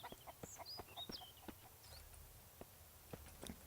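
A chicken in the survival game Mist Survival clucks in short, quiet bursts, with a few brief chirpy calls scattered over a faint background and no talking.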